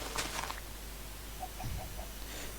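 Chickens in the Minecraft video game give a few short, faint clucks, soft blips scattered over a couple of seconds against a low background hum.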